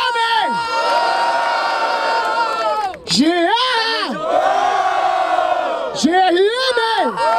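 A crowd at a rap battle in Barueri, São Paulo cheers and shouts loudly, with long sustained roars and whoops broken by brief dips, then swelling again.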